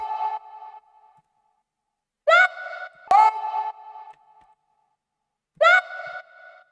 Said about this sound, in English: Without the reverb, it sounds like this.